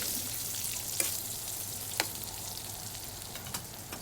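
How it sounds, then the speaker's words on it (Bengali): Pieces of pointed gourd sizzle steadily in hot oil, a continuous crackling hiss with a few faint clicks of a utensil against the pan. "পটল ভাজাটা হয়ে যাচ্ছে আমার"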